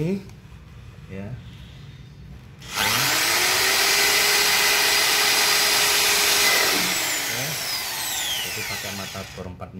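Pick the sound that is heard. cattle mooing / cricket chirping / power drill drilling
power drill drilling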